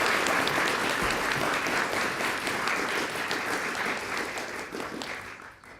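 Sustained applause from a large crowd after a speech at a debate competition, steady and dense clapping throughout, tapering slightly toward the end.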